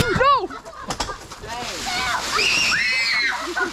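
Water pours and splashes down as a camper awning collapses beside the Nolichucky River, a loud sloshing rush under excited shouting voices.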